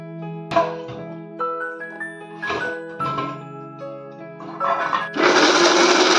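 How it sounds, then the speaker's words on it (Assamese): After a stretch of softer tonal sounds, a mixer grinder blending tender bottle gourd leaves switches on near the end with a loud, steady whirring roar. "এতিয়া এই গোটেই টেক্সাৰটো মিক্সাৰত মিহলাই ল'ম"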